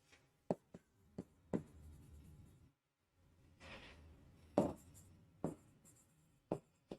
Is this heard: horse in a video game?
no